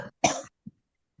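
A person coughs: one short cough, then a stronger, harsher cough, followed by two faint throat sounds, close and isolated against silence.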